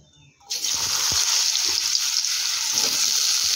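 Cut potatoes hit hot oil for jhinge aloo posto, a Bengali vegetarian dish. After a quiet moment, a loud, steady hiss of frying bursts in and holds, with a few soft stirring knocks beneath it.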